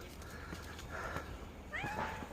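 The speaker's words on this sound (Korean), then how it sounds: "또 야옹야옹 그리네" A cat meows a few times, the last call rising and clearer, against a low background hum and faint rustling.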